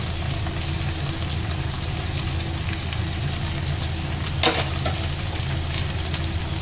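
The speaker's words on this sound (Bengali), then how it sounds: "যতক্ষণ না মশলাটা ভালো করে ভাজা হবে ততক্ষণ মা এটা ভাজতে থাকবে" Kashmiri chili and coriander powder fry in a pan with a steady close sizzle, marked by a brief scrape of stirring midway; no one speaks.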